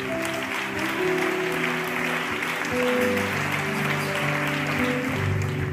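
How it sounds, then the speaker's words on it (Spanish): A church congregation gives sustained, steady applause during a worship service, a dense wash of clapping with a faint crowd murmur underneath. "Fuertes aplausos para el Señor."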